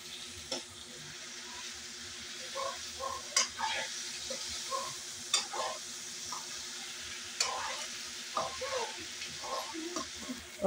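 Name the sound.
stirring fried potatoes into adobo in a pan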